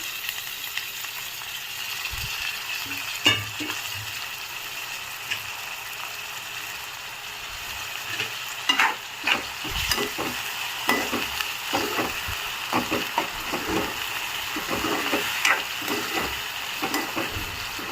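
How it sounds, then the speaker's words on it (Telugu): Tomatoes fry with curry leaves and dried red chillies in a pan, giving a soft steady sizzle broken by clattering spoon strokes against the metal that grow busier toward the end, with no talk. "ఇప్పుడు ఇందులోకి టమాటా వేసుకుందాం"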